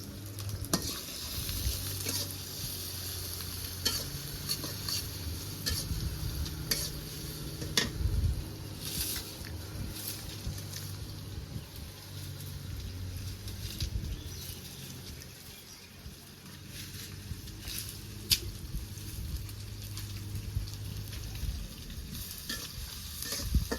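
Onion and garlic fry in hot oil with cardamom and cinnamon, giving a steady close sizzle with occasional stirring scrapes throughout, and no talking.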